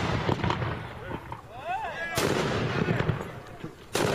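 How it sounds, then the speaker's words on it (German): Ceremonial cannons fire at the Schützenhof shooting festival in Bodenfelde at Pentecost, with two loud, sharp booms a couple of seconds apart over a noisy outdoor background. "Dann holen die Bodenfelder ihre Kanonen hervor und schießen lautstark los."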